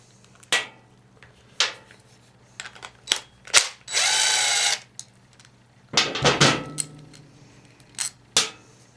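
A ratchet clicks in short bursts while bolts come out of an old green push mower's throttle linkage, close and intermittent, with one sustained whirring run in the middle.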